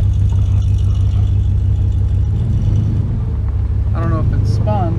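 A Ram 4x4 truck engine in four-wheel-drive low pulls away with a steady, loud low rumble, rising slightly as it accelerates, with voices talking briefly near the end.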